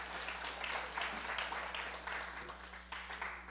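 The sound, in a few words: audience applauding Fanny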